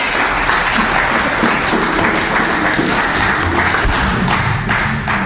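Loud, sustained applause from an audience at the end of a history lecture, dense clapping filling the room steadily from start to finish with no voices over it.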